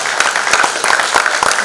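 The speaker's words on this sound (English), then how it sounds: "a big round of applause as I invite on stage" An audience applauds at a book launch ceremony, a short burst of sharp, closely spaced claps from a nearby crowd.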